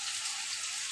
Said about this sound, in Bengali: দেখুন কি সুন্দর কষে এসেছে, আর একটু কষবে